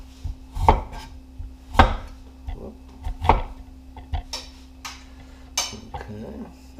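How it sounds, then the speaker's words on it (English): A knife cuts a carrot into thin julienne strips on a wooden cutting board, with sharp chops coming in an uneven rhythm and short pauses between them, close and clear. "So my julienne carrot."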